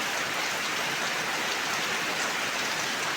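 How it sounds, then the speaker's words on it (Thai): Rain falls steadily and densely, a close, even hiss of drops on surfaces that holds at constant loudness throughout with no voices. "ฝนตกลงมาใส่"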